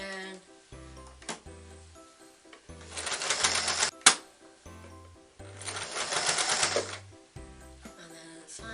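A domestic sewing machine stitches fabric for a tote bag in two short bursts of rapid, close mechanical chatter, with pauses, clicks and handling noises between them and a voice speaking faintly in the gaps.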